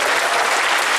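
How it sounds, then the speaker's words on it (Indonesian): Dense, loud applause from an audience at a stand-up comedy show in Aceh, a continuous wash of clapping heard up close with no pause. "Tepuk tangan buat Aceh sekali lagi"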